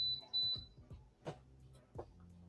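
A short high electronic beep sounds twice in quick succession at the start, clear and fairly loud, followed by scattered soft clicks and knocks in a quiet room.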